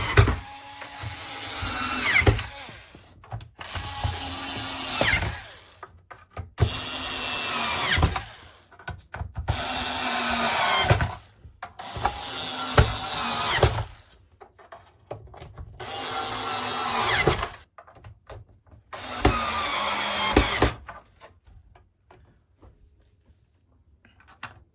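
A power screwdriver drives screws into the parts of an Aqualisa A2 Quartz grey shower unit, sounding in seven whirring bursts of a couple of seconds each, separated by short pauses, close by.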